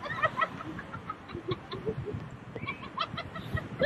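Chickens or similar fowl being chased outdoors, giving a scatter of short, faint clucks and squawks over rustling movement.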